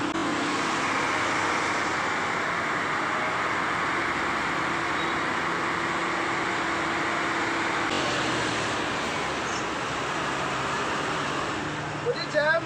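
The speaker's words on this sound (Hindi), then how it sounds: "इस टाइम जैम जो है मैं आपको बाहर से दिखा देता हूँ" Road traffic in a jam heard from inside a car creeping slowly near Chenani, Kashmir: a steady, loud wash of engine and road noise with a faint hum, continuous throughout and a few small knocks at the end.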